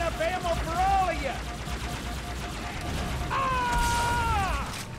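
Dual-wielded guns firing in Halo 2 Anniversary, rapid continuous automatic gunfire with mechanical clatter under game voices and effects, sustained through the whole stretch at steady loudness.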